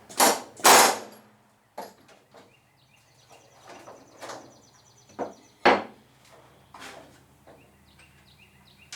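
Rivets being set on an aircraft rudder rib with a rivet gun and bucking bar in a home-build workshop, several short sharp bursts and clanks separated by quieter gaps, heard alone without talk.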